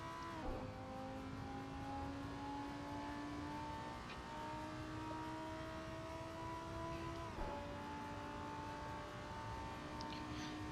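A Lamborghini Huracan GT3 race car in Assetto Corsa on the Daytona road course, its engine holding a steady high drone with a couple of abrupt gear-shift drops, fairly quiet and with no talk.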